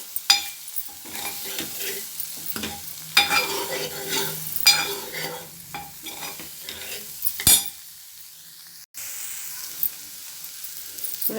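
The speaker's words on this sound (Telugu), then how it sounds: "ఒక నిమిషం సన్నసెగ మీద ఇలా ఉడకనివ్వాలి." Sorakaaya (bottle gourd) and tomato curry vegetables sizzle softly in a pan on a low flame, with intermittent stirring scrapes and clinks of a utensil against the pan, then a steadier quiet frying hiss.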